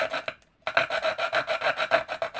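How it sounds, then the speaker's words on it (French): A small hacksaw blade saws through a piece clamped in a vise, with a brief pause and then steady, rapid back-and-forth rasping strokes, close and fairly loud. "Et j'essaye de scier dans le droit."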